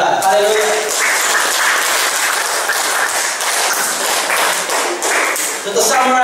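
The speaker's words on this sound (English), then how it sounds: "Can we give a clap of praise to our God?" A church congregation claps together in praise, a dense, sustained burst of applause that fills the room for several seconds, loud and continuous with no voices standing out.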